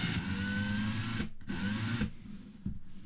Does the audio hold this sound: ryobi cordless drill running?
yes